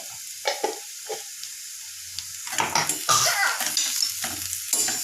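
A spoon scrapes and stirs a spiced mashed potato mixture for vada pav in a pan, with several close, distinct scraping strokes and a faint sizzle in between, and no talk.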